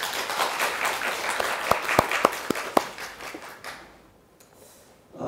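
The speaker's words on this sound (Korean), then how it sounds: "박수로 환영해 주시기 바랍니다." Applause from a lecture audience welcoming a professor at a university political science special lecture, moderate clapping with a few sharp louder claps, thinning and fading out over a few seconds.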